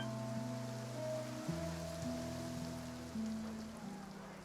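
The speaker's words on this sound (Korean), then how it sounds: "이렇게 비가 오래 내릴 줄이야." Rain falls in the Fontaine region of a fantasy video game, a soft, even patter running under sustained musical tones, with no speech.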